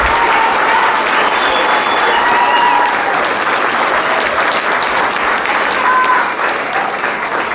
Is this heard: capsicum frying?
no